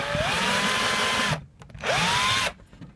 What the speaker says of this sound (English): drill two small pilot holes